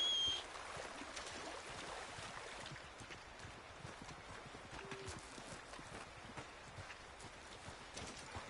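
A horse's hooves clip-clopping in the video game Red Dead Redemption 2, a steady walking rhythm of soft hoofbeats over faint outdoor ambience.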